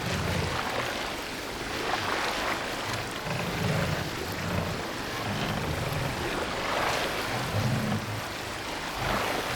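Viking longboat rowed through rough waves in Assassin's Creed Valhalla: steady rushing water and surf washing against the hull, with low rhythmic splashes of oars throughout.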